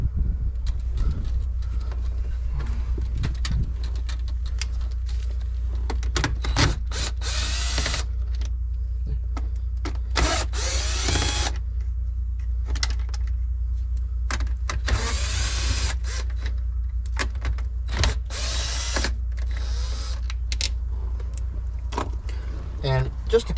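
Small 7mm screws being removed from the radio mount in a 2015 Jeep Wrangler dash, with repeated short bursts of a power driver whirring and clicking over a low steady hum, close by.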